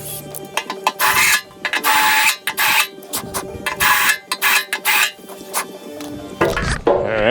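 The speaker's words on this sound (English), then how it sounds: "Gonna drill some holes right there for them real quick" Power drill boring two holes for a mounting bracket during a CP3 pump swap on a 5th-gen Cummins diesel, loud close bursts of whirring and grinding separated by short pauses.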